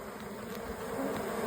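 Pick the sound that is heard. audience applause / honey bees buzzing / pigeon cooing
honey bees buzzing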